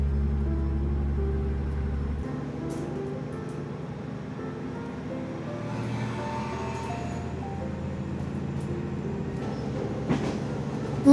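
A KiHa 47 diesel local train pulls out of Fukube station, its engine a steady low drone with faint rail clatter building as it departs, heard from aboard, continuous and moderately loud without talk.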